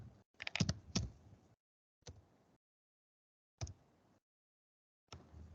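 Keys tapped on a computer keyboard, with a quick cluster of clicks at the start and then three short isolated bursts separated by silence, quiet and nearby with no talking.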